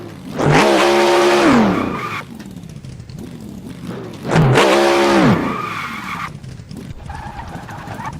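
Tires on a Mercedes-AMG C63 shriek through two loud, sustained skids, each lasting about two seconds, with the engine revving and climbing in pitch beneath the screech.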